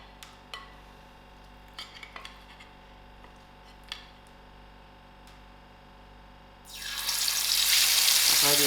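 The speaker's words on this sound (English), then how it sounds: "So now I'm ready to fry out my fish" Masala fish frying in about a centimeter of hot oil on a stove at moderate heat, a loud steady sizzle bursting in near the end after quiet scattered clicks and taps.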